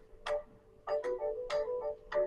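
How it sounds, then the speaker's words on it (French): A mobile phone chimes in a repeating ticking, bell-like pattern of short tonal bursts, moderately loud and close, with no speech over it. "Il fait encore du bruit mon téléphone."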